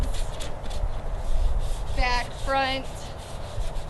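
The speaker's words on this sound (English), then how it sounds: "Just go through the entire piece with your sanding sponge" Sanding sponge rubbing across a chalk-painted wooden furniture piece, a soft, continuous scratchy scrubbing with back-and-forth strokes, heard close and under brief talk.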